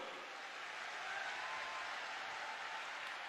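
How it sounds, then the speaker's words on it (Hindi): Faint, steady clapping from a gathered audience welcoming saints at a Hindu religious discourse, heard at a distance as an even wash of applause with no voices over it. "एक बार जोरदार ताली बजाकर सब संतों का स्वागत करो"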